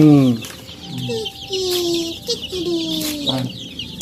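Free-range native chickens and young chicks clucking and peeping close by, a run of overlapping calls and chirps with a few sharper squawks, no voices.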